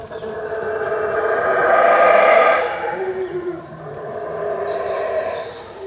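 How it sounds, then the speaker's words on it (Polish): Howler monkeys roar from the forest at dawn, a deep, rolling, growling chorus that swells to a loud peak, then eases and rises again, heard at some distance over steady background noise. "Wyjce nas obudziły i to jest odgłos, którego w życiu jeszcze nie słyszałem"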